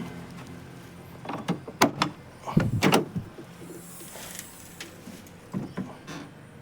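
Doors of a used Toyota Qualis are worked open and shut, giving a cluster of sharp latch clicks and heavy thuds mid-clip, then quieter clunks later over a low background.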